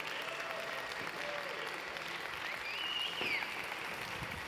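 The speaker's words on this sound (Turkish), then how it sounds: "Alkışlarla kendilerini sahneye davet ediyorum" Audience applause at a gastronomy conference as speakers are welcomed onto the stage, a steady, fairly distant wash of clapping throughout.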